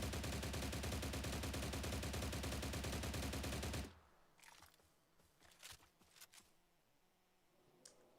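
Automatic fire from a video game gun fitted with a different muzzle rattles in a dense, loud, rapid stream for about four seconds, then stops, leaving faint scattered clicks and thuds.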